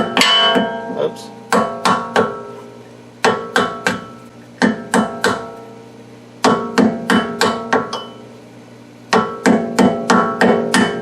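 A hammer taps a wheel bearing into the front hub of a Ford Mustang, giving close, ringing metallic strikes in quick clusters of three to five, with short pauses between groups.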